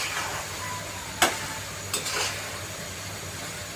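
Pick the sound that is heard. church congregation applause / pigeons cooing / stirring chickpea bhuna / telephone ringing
stirring chickpea bhuna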